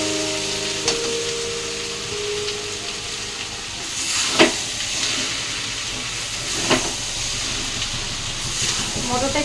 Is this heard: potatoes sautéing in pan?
yes